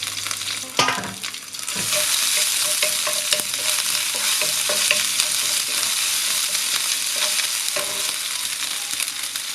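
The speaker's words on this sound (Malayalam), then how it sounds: "കടുക് പൊട്ടുമ്പോഴേക്ക് ഇതിലേക്ക് കുറച്ച് കറിവേപ്പില ഇട്ട് കൊടുക്കുക." Steady, loud sizzling of mustard seeds and curry leaves frying in hot oil, with crackles and pops throughout and occasional stirring clinks.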